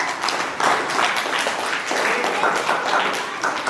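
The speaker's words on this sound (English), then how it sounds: "Claps to teacher." A class claps together for their teacher at a Teacher's Day celebration, a dense steady patter of hand claps, fairly loud and continuous throughout.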